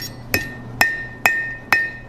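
Blacksmith hammering a chain link on the horn of an anvil: four sharp ringing metallic strikes at an even pace, each with a bright clink and short decay, close and clear with no talking.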